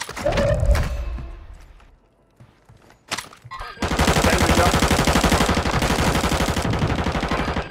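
Gunfire in the Warzone 2 video game: a few scattered shots come first, then a long, loud, sustained burst of rapid automatic fire.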